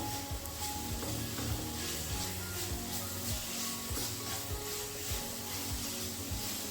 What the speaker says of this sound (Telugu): అల్లం వెల్లుల్లి పేస్ట్ అంతా పచ్చివాసన పోయేదాకా మంచిగా ఫ్రై చేసుకుని